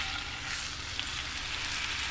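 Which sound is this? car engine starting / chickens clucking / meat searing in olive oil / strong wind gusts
meat searing in olive oil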